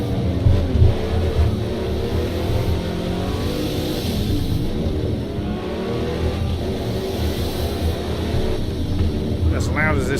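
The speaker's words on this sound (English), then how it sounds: "As loud as this wire is, you could still hear that Ferrari ahead." A Ferrari race car engine in a racing video game revs and accelerates steadily and loudly throughout, with someone talking over it.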